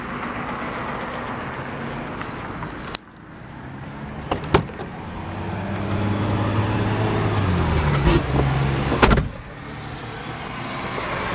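A 2014 Jeep Wrangler Unlimited Sahara 4x4 pulls away and drives, a steady low engine drone and road rumble heard from inside the cabin, with a couple of sharp clunks and a door thump, no talking.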